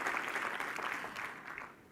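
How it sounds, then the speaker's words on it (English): A conference audience gives a warm round of applause in a hall, close and continuous clapping that fades slightly toward the end. "So give yourselves a round of applause for being that group of people."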